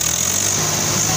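Two tractors, a Swaraj 744 XT and a Sonalika DI 35, in a tug-of-war contest with engines held at full throttle, a loud steady diesel drone with no talk.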